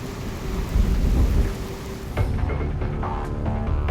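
Typhoon storm over Taipei, with rolling thunder and heavy rain pouring down, a loud dense roar that eases slightly midway and then carries on with scattered rumbles and patter.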